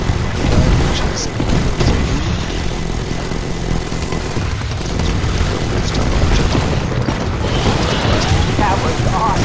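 Artillery fire in the strategy game Empires and Allies, a loud continuous rumble of booming blasts and mechanical engine-like drone, dense and sustained with a swell near the end.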